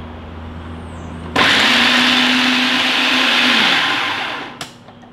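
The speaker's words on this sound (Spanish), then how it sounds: "así que vamos a triturar" A blender purees green plantain dough for alcapurrias, kicking in abruptly with a loud, steady high whir that holds for several seconds, then winds down and stops with a brief clunk at the end.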